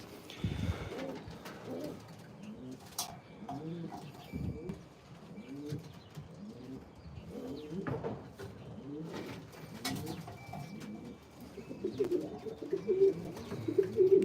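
Racing pigeons in a breeder's loft coo steadily in soft, low, overlapping rolling calls from several birds, mixed with occasional light chirps, wing flaps and small knocks.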